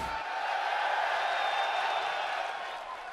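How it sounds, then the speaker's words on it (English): Crowd ovation at a fight event in Miami, a steady wash of cheering and applause from a large audience, loud and sustained for a few seconds before easing slightly. "what it feels like to be sitting on that stage and getting the ovation from this crowd right now"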